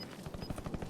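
Rapid automatic gunfire from Call of Duty Warzone rattles in a quick, evenly spaced burst of shots, faint and brief.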